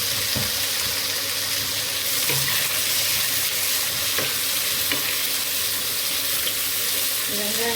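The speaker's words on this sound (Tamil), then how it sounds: "வெங்காயம் நல்லா ப்ரௌனாக வதங்கணும்" Onion, green chili and mint sautéing in a pan for chicken biryani: a continuous close sizzle with occasional stirring scrapes and clinks, no talk.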